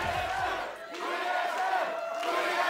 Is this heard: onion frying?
no